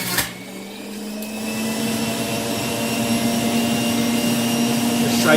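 A Breville compact juice extractor runs steadily as ginger is fed through, its motor giving a loud, continuous whirring hum that holds for several seconds with no voices.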